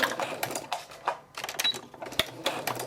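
A sewing machine runs a short forward burst of stitching on a cloth diaper at a 3/8 inch seam allowance, then back stitches. The bursts are close and clicky, with brief pauses between them.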